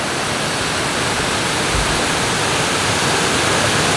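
The rushing rapids of the James River pour over rocks in a mountain setting, a loud, dense, unbroken roar of whitewater heard up close.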